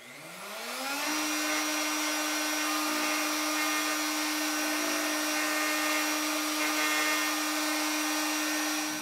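A router with a flush trim bearing bit spins up to a steady high whine and trims the edge of a cherry wood piece, a loud continuous buzz with no talking.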